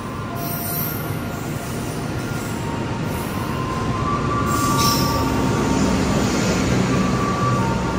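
A Ciremai Ekonomi passenger train passes close by in Indonesia, its roar and rattling carriages building steadily louder, with high metallic wheel squeal above the rumble.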